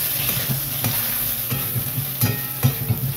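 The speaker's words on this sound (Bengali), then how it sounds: "তেলেই আমি বেগুনগুলোকে একটু ভেজে নেব" Eggplant pieces frying in oil in a pan, a loud close steady sizzle with a few soft clicks and scrapes of a spatula turning them, with no talk.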